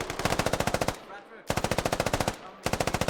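Rapid automatic gunfire in a military video game, three loud close bursts of evenly spaced shots separated by brief pauses.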